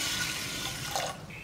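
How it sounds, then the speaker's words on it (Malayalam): Water runs steadily from a tap into a pot of soaked green gram being cooked with spinach for a Kerala curry, a close, continuous splashing stream that tapers off near the end. "ഇതിലേക്ക് കുറച്ചുകൂടി വെള്ളം ചേർക്കുന്നുണ്ട്"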